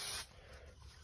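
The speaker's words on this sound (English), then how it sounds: "I'm going to use spray glue. I'm using Craft Mount by 3M." A short, sharp hiss of 3M Craft Mount spray glue from an aerosol can lasts a fraction of a second, then fades into near silence.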